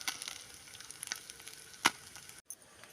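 Sardines frying with green peppercorns give a soft, steady sizzle with scattered crackles and one sharp pop, close but fairly quiet, ending in a brief break.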